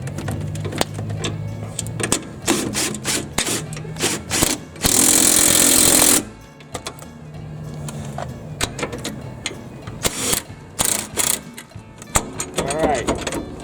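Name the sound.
socket wrench tightening gripper nuts on mower stabilizer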